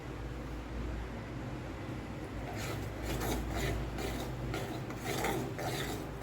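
A spoon scrapes and rubs through thick mohanthal gram flour fudge cooking in a pan, with rhythmic rasping strokes that grow louder in bursts over a quiet background.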